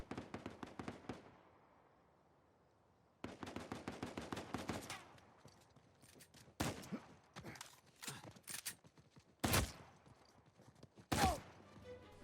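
Semi-automatic fire from the Mettler rifle in Uncharted 4 multiplayer: sharp reports in quick bursts, with a lull between them, then scattered louder single shots near and clear, no talking.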